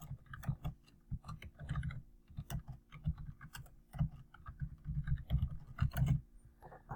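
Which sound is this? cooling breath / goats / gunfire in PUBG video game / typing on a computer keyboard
typing on a computer keyboard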